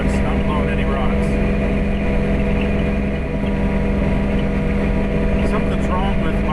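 A snowblower engine runs steadily and loudly throughout, a continuous close mechanical drone with faint rattling as it clears snow near rocky ground.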